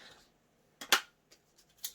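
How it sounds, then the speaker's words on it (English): Left-handed scissors snip through gasket material, giving a few sharp, close cuts that stand out against near silence, with one loud snip followed by softer ones. "And then my trusty left-handed scissors,"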